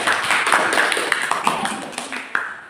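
Students clapping for a group presentation at a school event, a short burst of brisk clapping from a small room of people, fairly loud and close, fading slightly toward the end.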